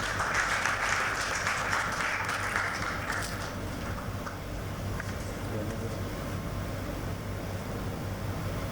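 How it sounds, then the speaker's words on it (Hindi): An audience at a Delhi BJP office event applauds in welcome of a speaker at a tribute ceremony, moderate clapping that starts fairly strong and thins out after a few seconds, leaving a faint room hum beneath. "जोरदार तालियों से स्वागत कीजिए।"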